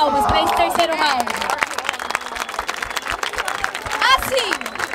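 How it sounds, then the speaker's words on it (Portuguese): Crowd applause and cheering after the third round of a rap battle final at an outdoor event in Barueri, São Paulo, a loud continuous wash of clapping with shouts and voices mixed in. "é uma salva de palmas pra esse terceiro round"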